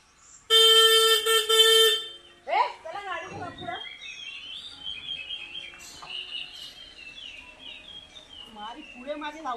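A vehicle horn honks loudly in a sustained blast as a car arrives at a village home, then gives way to birdsong and lively voices.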